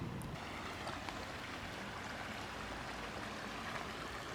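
A gentle brook of flowing stream water, a steady broadband rushing and babbling wash that stays even and moderately quiet throughout, with no talking.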